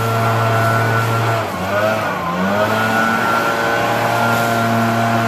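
A leaf blower clearing leaves outdoors gives a steady, loud, close engine drone with a sustained whine. The pitch dips briefly midway, then holds even.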